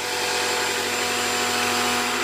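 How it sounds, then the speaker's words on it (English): A high-quality blender blitzes chunky cacao butter into a fine powder, a loud, steady whirring roar that runs unbroken and close throughout with no talking. "We're going to blitz it in my high quality blender and make it into a fine"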